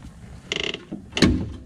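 A shock absorber on a 2003-2011 Honda Element, fitted during a 1.5 inch lift kit install, is twisted with channel lock pliers. It gives two short bursts of close metallic ratcheting and creaking, separated by a brief pause.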